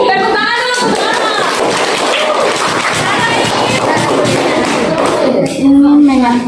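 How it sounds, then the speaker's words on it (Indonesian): Hands clap together in a classroom after a student group's presentation, a dense steady patter of many claps mixed with chatter and voices, running throughout before easing near the end. "Tepuk tangan dulu pertama."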